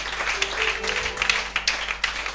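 Steady applause from a church congregation fills the space, moderately loud with scattered sharper claps and a faint background voice, lasting a couple of seconds.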